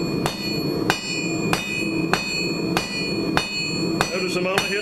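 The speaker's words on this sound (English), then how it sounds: "As I'm hitting the top, the anvil's hitting the bottom." A hammer strikes hot metal on an anvil while forging a steak flipper, eight sharp ringing blows at a steady rhythm about every half second, near and loud with the metallic ring lingering between strikes.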